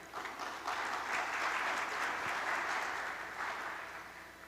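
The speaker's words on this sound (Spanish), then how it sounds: "Le damos un fuerte aplauso" Audience applause at a panel forum on artificial intelligence, a sustained, dense round of clapping from a crowd lasting several seconds, steady and then tapering slightly, with no talk over it.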